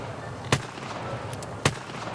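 Two sharp revolver gunshots fire in Escape from Tarkov, spaced about a second apart, each a crisp, loud crack over a quiet background hum with no speech.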